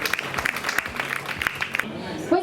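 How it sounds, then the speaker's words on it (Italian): Scattered applause for the sponsors at a Miss Italia beauty pageant evening, a few sharp claps in an uneven patter for about two seconds, fading before a brief voice at the end. "Un applauso anche per gli sponsor."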